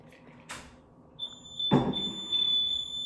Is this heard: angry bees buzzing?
no